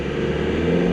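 A car engine running with its MAP sensor unplugged, a steady close drone with a constant high whine riding over the rumble, brief and unbroken.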